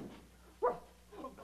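A dog being served a bowl of dog food lets out one short, sharp bark or yip midway through, with only soft, faint sounds before and after.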